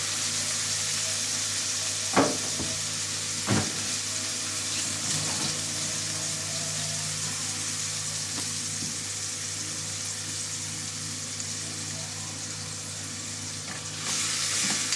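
Squid sizzles and fries steadily in a pan, a dense continuous crackle with a couple of sharp clatters of a utensil stirring, and a louder burst near the end.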